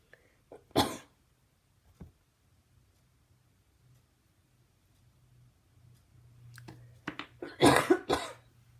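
Several coughs, a sharp one near the start, then a cluster of harsher, louder coughs toward the end, over a faint low hum.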